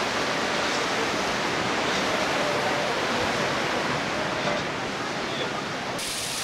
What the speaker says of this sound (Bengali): এই দেখো ঝর্ণার জল নামছে,